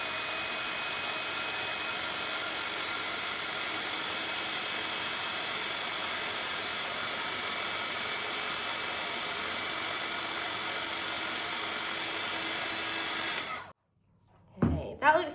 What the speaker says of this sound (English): then I'm going to heat that with my heat gun